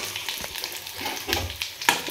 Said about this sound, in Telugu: ఇక ఫ్రై చేస్తున్నా